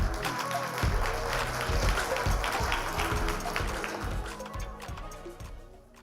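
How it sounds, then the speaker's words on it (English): An audience applauds as a debating team comes on stage at an economics debating challenge session, with dense steady clapping that tapers off at the end. "Please give them a round of applause as they come on stage."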